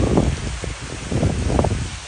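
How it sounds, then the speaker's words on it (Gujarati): Heavy monsoon rain pours down outside a flooded home, a dense steady hiss with slight swells in intensity, loud and close throughout with no voices. "અત્યારે વરસાદ એવું લાગે છે કે બહુ એટલે બહુ"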